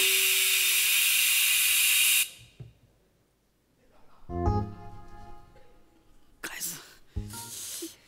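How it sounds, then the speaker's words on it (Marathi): A pressure cooker cooking rice lets out a loud, hissing steam whistle for about two seconds, then cuts off; voices speak afterward in a comedy sketch. "ते कुकरची शिट्टी वाजली"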